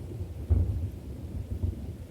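In a radio play, a low rumble of thunder rolls under a steady hiss of rain, with a soft swell near the start and then a continuous stormy wash and no voices.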